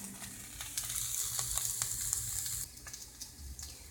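Asparagus and balls of food fry in oil while being stirred, a steady crackling sizzle with scattered pops and scraping clicks from the utensil, continuous and close.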